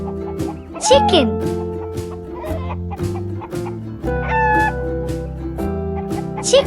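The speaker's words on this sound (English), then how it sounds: "Chicken." A farm chicken clucks in quick, choppy bursts with a few higher squawks, heard over bouncy children's background music in a farm-animal sound lesson.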